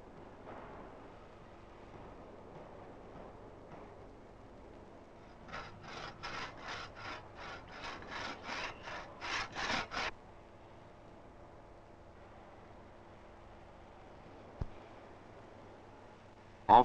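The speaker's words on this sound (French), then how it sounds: "Enfin, il mesurait et découpait la pierre à la bonne largeur." A hand saw cuts a coticule whetstone to width in a quarry workshop, about a dozen quick rhythmic rasping strokes in a row, close and clear against a quiet background, then a few isolated knocks.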